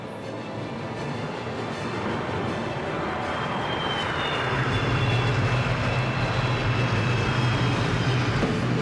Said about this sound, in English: Presenting the F-15 vertical climb.